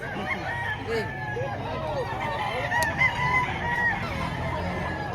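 Several roosters crow repeatedly, near and farther off, at a busy chicken market in Padre Garcia, Batangas, with clucking and murmured voices underneath.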